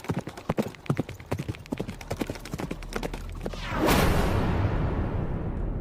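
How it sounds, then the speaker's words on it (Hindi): Horses' hooves clip-clopping steadily on a track as a king rides with his hunting party, a run of loud close strikes that gives way near the end to a rushing whoosh. "राजा साहब शिकारियों के साथ घोड़े पर चले आ रहे हैं"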